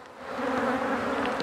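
Honey bees from an overwintered nuc colony buzz around hive frames in a dense, steady, close hum that swells slightly and holds without a pause.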